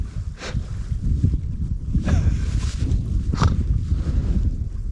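Wind blows outdoors by a remote California trout stream, buffeting the microphone with a continuous low rumble and occasional faint gusting swells.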